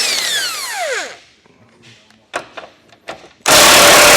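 A power tool spins 21 mm front nuts off a 2016 Ford F-150: a loud whir winds down, light metallic clanks and taps follow, then a sudden harsh full-power burst of the tool.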